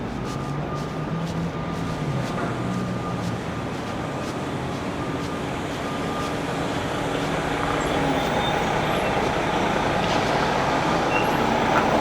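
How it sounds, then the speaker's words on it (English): Coach buses and other traffic pass along a downtown Toronto street, a steady roadway rumble with engine drone that grows slightly louder toward the end, with no talk. "A lot of coach buses snaking through this area."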